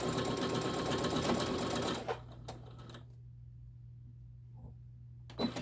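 A sewing machine runs steadily for about two seconds while back stitching a seam on a tote bag, then stops, leaving a low hum and a few faint clicks and taps.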